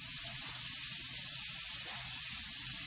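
Tomatoes cook in a pan for rice with pigeon, giving a steady, close hiss and sizzle that runs unbroken with no talk.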